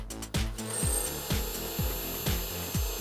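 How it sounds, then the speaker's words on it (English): A drill bores a pilot hole through the back side of a piece of wood. The motor whirs and repeatedly sags in pitch as the bit bites in, a close, grinding rasp in regular surges. "So now we have to drill through the backside as well."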